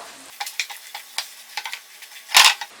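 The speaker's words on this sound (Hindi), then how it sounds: "ये चारों डाल देंगे और इसको हल्का सा भून लेंगे बिल्कुल लो फ्लेम पर" Turmeric, red chilli, coriander and garam masala powders are stirred and lightly roasted in a pan over a low flame for a potato masala. A spoon scrapes the pan in short strokes over a soft sizzle, with one louder scrape near the end.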